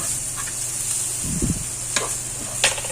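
Salmon pieces coated in curry powder are stirred in a hot pan, with a continuous sizzle and a few close scraping strokes of the utensil, plus brief sharper clicks.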